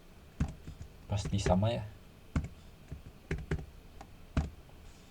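A subnet mask is typed on a computer keyboard during a network configuration task, with a few sharp, close key clicks spaced irregularly and a short burst of speech early on.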